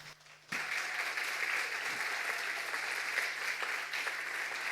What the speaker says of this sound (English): please give them a welcome round of applause